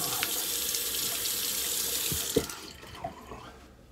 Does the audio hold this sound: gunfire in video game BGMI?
no